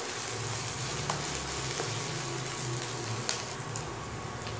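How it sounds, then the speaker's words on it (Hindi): Red chili, green chili, ginger and bay leaf fry in hot oil, a steady close sizzle that hisses continuously with occasional small pops. "लाल मिर्च, हरी मिर्च, अदरक, तेजपत्ता, उन सबको गोल्डन ब्राउन भून लेते हैं"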